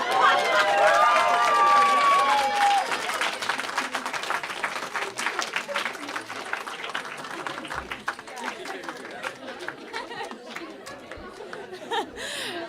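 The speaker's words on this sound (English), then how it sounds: "we're gonna kind of keep clapping for all of our storytellers" An audience at a storytelling night in a taphouse claps loudly and steadily, with chatter and scattered laughter mixed in as the applause tapers off.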